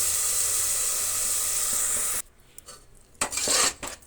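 Spinach (palak) paste for an egg biryani frying in a pan, a dense steady hiss and sizzle for about two seconds, then quieter with a few scraping stirs of a utensil against the pan.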